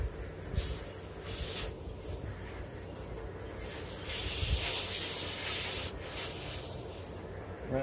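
Abrasive rubbing on a rusty knife blade during restoration, a hissy scraping texture that swells and fades in strokes, close-up over faint background noise.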